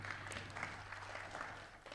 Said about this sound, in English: May we welcome Purity Museo by a clap